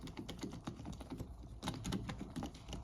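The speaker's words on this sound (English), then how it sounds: "The way these old keys click." Keys of an old typewriter, slightly stuck, clicking in a rapid, uneven run of close taps over a steady background hiss in an abandoned mansion in an Irish forest, with no talking.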